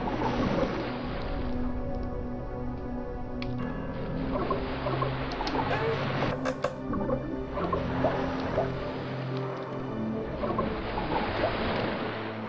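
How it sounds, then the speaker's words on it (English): Water splashing and sloshing in a horror video game, a steady watery wash with some choppy surges, moderately loud and continuous with no talk over it. "Man, the splashing sound comes so close after a bit."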